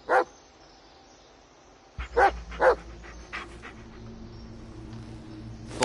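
Dog barks and whimpers in the horror video game Blair Witch, a few sharp close barks in bursts over a low steady background drone, with quieter whines between them.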